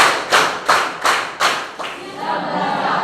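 A high-school class claps five times together on command, each clap a loud, slightly ragged group burst, followed by a brief murmur of the room.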